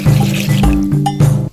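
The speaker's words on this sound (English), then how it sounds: "So I'll go ahead and add in 2 cups of water." Two cups of water pour into a cooking pot for rice over onions, a close, steady splashing rush with gurgling tones for about a second and a half.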